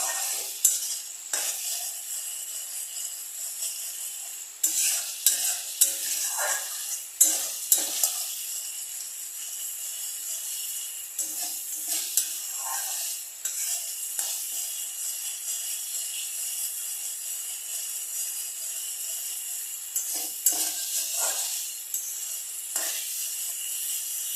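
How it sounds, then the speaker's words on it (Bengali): Katla fish curry masala frying in a pan and being stirred, a steady soft sizzle broken by repeated scraping and clinking strokes of a spoon against the pan, close and fairly quiet. "আর কন্টিনিউ এভাবে নাড়িয়ে গেলে খুবই ভালো হয়, স্বাদটা খুব সুন্দর ওঠে।"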